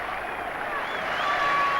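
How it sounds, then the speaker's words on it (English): A large cricket crowd at Old Trafford applauds Ian Botham as he walks off, a sustained wash of clapping and cheering that swells slightly toward the end, with some whistling audible above it. "they're going to applaud him all the way in"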